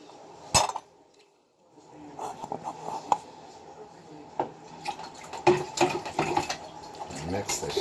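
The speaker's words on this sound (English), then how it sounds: "Mix the shit out of this water." Water in a small plastic test vessel is stirred vigorously to mix in pH drops, giving irregular clinks, sloshes and scraping taps close by, with someone talking intermittently over it.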